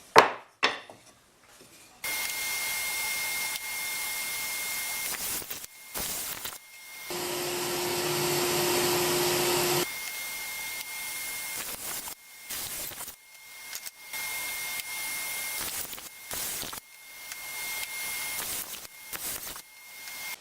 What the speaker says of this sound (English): So I'm going to put pocket holes in the bottom of each of these shelves